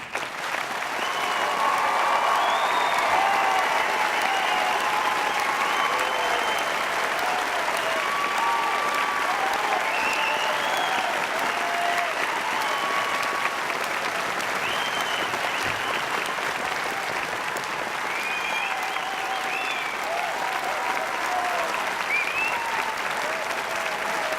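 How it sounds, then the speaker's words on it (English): At a university graduation ceremony in a large hall, a long, even round of applause from a big audience carries on steadily, with occasional cheers and whoops rising above the dense clapping. "Please can I ask you to join me in one final round of applause."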